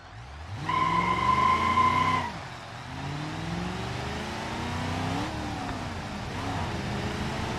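A car engine in BeamNG, starved of oil, revs hard and then drops off, then climbs through repeated rising rev sweeps. The engine is loud and close, with a whining tone during the first burst.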